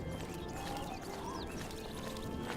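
A paint horse in the video game Oblivion, with soft clip-clop hoof sounds and faint whinnying under a dense, steady ambient game soundscape. The sounds are quiet and distant.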